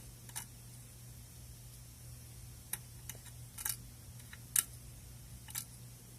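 Faint, scattered metallic ticks and small crunching clicks from the pins inside a challenge lock as it is picked, a handful of soft transients spread over several seconds in a quiet room.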